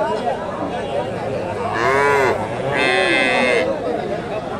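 Cattle lowing at a busy Bogura cow market (Hasokhali haat), with two long harmonic moos from a crossbred cow or young bull standing out over steady crowd chatter and background voices.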